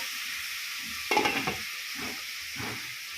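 Chicken in milk simmers in a covered pot, giving a faint, steady hiss and bubbling with a few soft knocks and bursts of louder bubbling.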